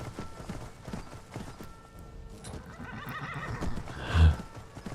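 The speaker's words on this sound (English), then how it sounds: "Be still, my horse." Horse neighing in the Skyrim video game, a whinny rising near the end over a busy background of hoofbeats and game ambience.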